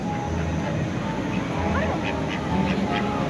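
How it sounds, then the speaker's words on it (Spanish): A duck quacks at the Ojo de Agua spring park in Orizaba, Veracruz, its calls close and intermittent under a steady outdoor hiss while people talk and shout nearby. "¡Ahí está el pato!"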